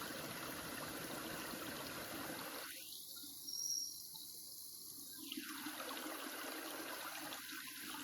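Water hissing and spraying steadily from a leaking irrigation pipe that feeds farmland beside a dried-up river, a continuous close rush that briefly thins in the middle before resuming.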